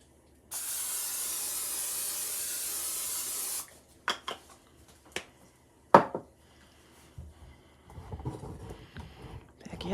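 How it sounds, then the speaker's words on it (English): A can of non-stick cooking spray hisses steadily for about three seconds into a cooking container, followed by a few sharp clicks and clatters of kitchenware and soft handling noises. "I'm going to spray it so it doesn't stick in there."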